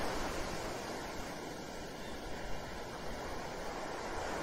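Ocean waves wash steadily onto a shore, a continuous soft surf with no distinct breaks, faint and even throughout with light wind noise mixed in.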